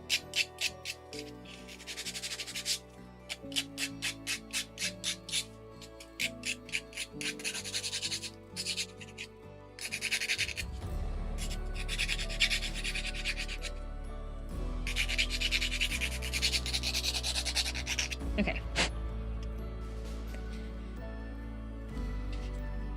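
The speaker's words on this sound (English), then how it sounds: "Oh, the whole thing needs to get sanded." Rhythmic rubbing strokes of sanding on a wooden craft bookend piece, with a stretch of steady scraping over background music, close and moderately loud.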